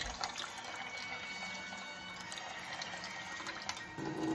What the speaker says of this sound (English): And you're just gonna put cold water on the top.